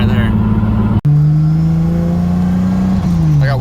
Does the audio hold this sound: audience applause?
no